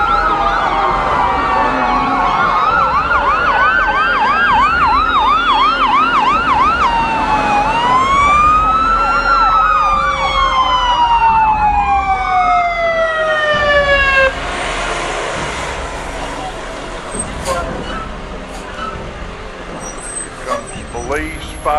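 Several police, fire and ambulance sirens wail and yelp at once, loud and close, sweeping up and down before cutting off, leaving engine noise and scattered voices.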